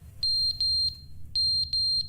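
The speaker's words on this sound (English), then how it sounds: "Where is this beeping sound coming from? It is annoyingly loud." Loud electronic beeping in the video game The Stanley Parable: Ultra Deluxe, a high, steady alarm-like tone in two bursts of three repeated beeps with short gaps, alone over a low background hum.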